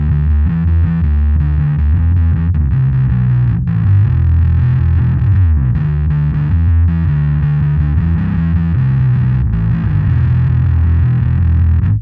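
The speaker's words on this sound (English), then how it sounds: "How about clean signal?" Bass guitar clean signal through a Darkglass Anagram pedal, steady sustained low notes with a thick, slightly effected tone played alone for about twelve seconds.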